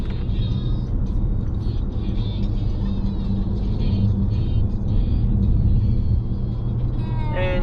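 A 2021 Toyota Highlander loaded with passengers cruises on the I-10 highway, giving a loud, steady low road rumble and tire roar from inside the cabin, with faint voices in the background.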